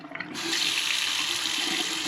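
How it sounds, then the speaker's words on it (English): Water running from household plumbing being worked on by a plumber, a steady close splashing stream that starts after a brief quieter moment and continues evenly without talk. "See this dripping a little bit?"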